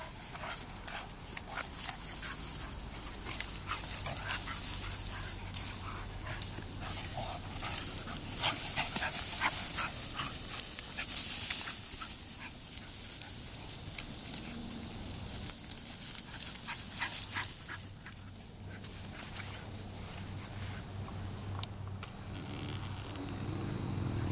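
Dogs pant and whimper nearby over a long stretch, with scattered rustling and occasional short vocal outbursts.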